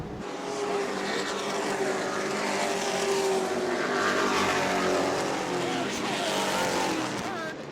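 Race cars at New Smyrna roar loudly and continuously as one spins out, with engine noise swelling and fading slightly across the stretch.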